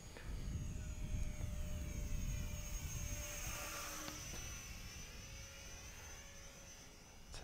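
An Eachine Spitfire RC model warbird flies overhead with a steady, whining electric motor and propeller drone that swells and sweeps past, with no talk.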